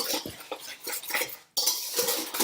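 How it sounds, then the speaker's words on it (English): Pumpkin pie filling whipped by hand in a bowl, a utensil clinking and scraping rapidly against the sides in quick rhythmic strokes, close and fairly loud, with a brief pause midway. "So now that I have my pumpkin in there, I'm going to whip that up a little bit."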